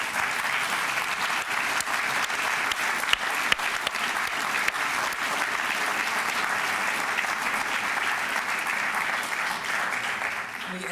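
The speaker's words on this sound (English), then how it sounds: "please stand up and accept our applause" At a veterans legal services benefit reception, the audience gives sustained applause to veterans and military families standing, a dense, even roar of clapping lasting about eleven seconds with occasional sharper individual claps.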